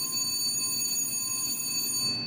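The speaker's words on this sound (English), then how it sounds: "In just a few seconds, we'll hear the bell ring." A missile silo launch bell rings continuously and loudly, a sustained steady metallic alarm tone filling the whole moment without pause or voices.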